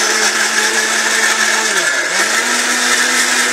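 A 1350-watt electric blender runs at full speed, a loud steady whine that dips briefly in pitch as the motor loads, then recovers and holds its drone, alone without speech.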